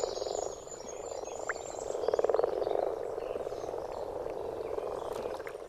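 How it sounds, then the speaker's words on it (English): Male frogs croaking together in a chorus, calling through single vocal sacs under the chin, a dense, continuous pulsing drone with a louder rattling burst in the middle and faint bird calls above. "The males use a single vocal sac under the chin to fill the air with a croaking chorus."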